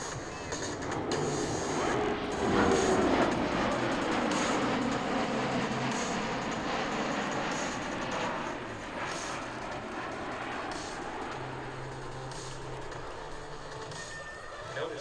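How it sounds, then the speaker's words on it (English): A C-17 Globemaster III military transport flies low past an air show crowd, a broad steady roar that swells slightly and stays continuous throughout, with no talk over it. "look to the left for an aircraft the size of a hotel. It's the C-17 Glowmaster 3."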